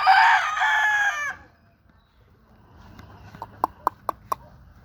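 Fowl at a backyard game fowl farm: a strong close call opens, then after a quiet gap a run of four or five sharp clucks or clicks rises over faint background noise.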